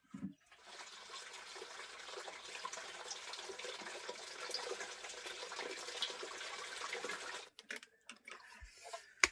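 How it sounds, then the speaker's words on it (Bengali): Water gushes steadily into a large container to hold about 72 litres, a continuous rushing fill lasting several seconds before stopping, followed by a few knocks. "বাহাত্তর লিটার জল ভরিয়েছি"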